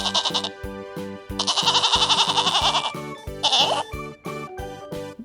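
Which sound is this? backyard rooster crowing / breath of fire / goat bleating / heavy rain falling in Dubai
goat bleating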